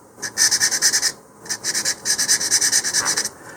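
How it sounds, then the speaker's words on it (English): Sandpaper rubbed back and forth over a small model rocket body tube to roughen it, heard as two close bursts of brisk, rhythmic scratchy strokes separated by a short pause, with no talk. "I'm going to take a little bit of sandpaper here, and I'm just going to roughen that area up a little bit."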